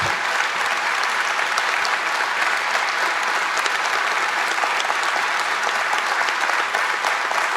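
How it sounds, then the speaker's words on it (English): An audience gives a standing ovation to filmmaker Agnieszka Holland in a machine hall at the Freedom Games event, producing dense, sustained applause from a large crowd that holds steady and loud for the whole stretch. "So a round of applause for Agnieszka Holland right now."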